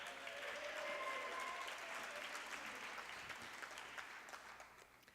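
Audience applause and cheering at a Tech Week 2017 pitch competition event, a dense steady wash of clapping that gradually fades toward the end, with a few whoops mixed in.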